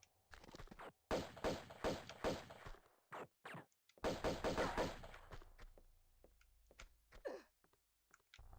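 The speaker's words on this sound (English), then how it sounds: "Who's shooting at me?" Gunfire in Tomb Raider II's Venice opera house level comes as clusters of sharp, rapid shots separated by brief silences, fairly close and fading to scattered pops near the end.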